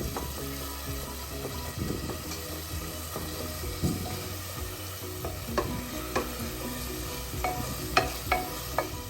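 Tomatoes, ginger and masala mix frying in oil in a pan, giving a steady close sizzle with occasional stirring clinks and scrapes of a utensil against the pan.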